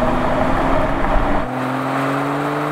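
A BMW 3 Series Touring diesel accelerates hard in a drag race, its strained engine roar shifting pitch midway as a gear change comes through, loud and continuous.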